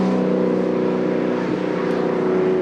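Triumph TR sports cars racing at a 1995 club event, engines droning loud and steady as the leaders pass through on the track, a sustained buzzing roar with a slight rise midway.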